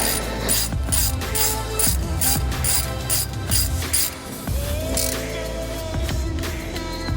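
A ratchet clicks steadily in quick rapid strokes while skid plate bolts are tightened on a Jeep Gladiator, with metallic clatter over a continuous mechanical background.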